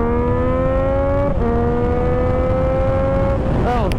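A 2016 Yamaha MT-09 Tracer motorcycle engine pulls hard under acceleration, its loud rising whine climbing steadily in pitch, breaking briefly at a gear change, then surging again and dipping near the end, close up with heavy wind rush.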